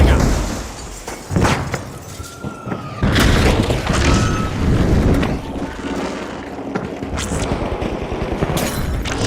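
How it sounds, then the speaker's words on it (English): A flashbang grenade goes off in a tactical shooter video game, a loud burst followed by ringing, booms and scattered gunfire in a busy game mix. "Flashbang out."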